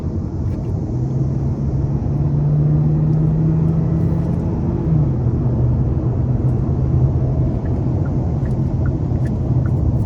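A 2024 Hyundai Elantra Hybrid Limited without turbo pulls hard through a corner in rush-hour traffic, a steady low engine drone with a gradual rising whine that dips after a shift, heard from inside the cabin with no talking.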